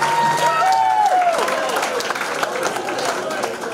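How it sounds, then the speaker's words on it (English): Audience applause at a live comedy show, a steady wash of clapping with some crowd noise and a voice talking over it. "Give a round of applause, ladies and gentlemen."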